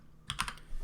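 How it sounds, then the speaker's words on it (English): A few quick keystrokes tap on a computer keyboard while a command is typed, a faint brief cluster of close clicks in a quiet room. "I'm just gonna do a quick check by typing"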